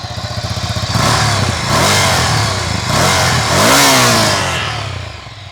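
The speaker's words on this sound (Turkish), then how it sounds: "Zaten Ducati'nin motor böyle gürültülü." A Ducati Scrambler motorcycle engine with a Termignoni slip-on exhaust revs repeatedly up close, a loud throaty exhaust rising and falling in several bursts with a popping idle between.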